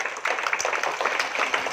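Brief burst of crowd applause at a school awards ceremony honouring Silambam champions, many hands clapping in a dense, even patter at moderate loudness.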